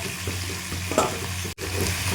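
Ridge gourd and potatoes fry in a pan with an even, close sizzle, a faint stir and a brief clink, and a momentary gap in the sound.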